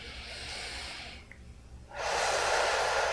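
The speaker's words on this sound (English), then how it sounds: "Take a deep breath." A slow, deep breath drawn in through the nose and then let out in a longer, louder exhale, close to the microphone with steady breathy noise and no talking.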